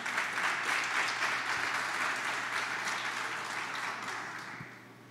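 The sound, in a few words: church congregation applauding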